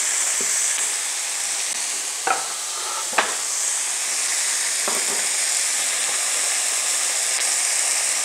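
Tomatoes go into a pan of frying onions and minced meat for bolognese, giving a steady close sizzle with a few sharp clatters and scrapes from stirring. No one speaks.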